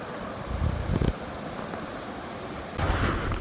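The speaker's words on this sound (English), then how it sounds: "Water level is going higher and higher as I walk further, and it's slowly turning into a waterfall." Floodwater rises and rushes through a rainforest, a continuous broad roar of turbulent water heard up close, with a couple of louder surges and no voices.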